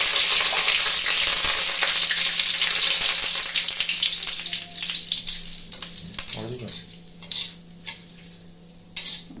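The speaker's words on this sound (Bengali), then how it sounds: "এর মধ্যে আমি কারি পাতা দিয়ে দিচ্ছি।" Curry leaves dropped into hot oil for a Bengali home-style dish, giving a loud, dense crackling sizzle that starts strong and gradually thins into scattered pops and spits as the frying settles.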